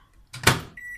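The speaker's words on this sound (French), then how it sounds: "au micro-ondes à puissance maximum" A microwave oven switched on at maximum power to cook a quick banana-chocolate cake: a brief loud clunk as it starts, followed by a steady electrical hum with a high whine, close by and without talk.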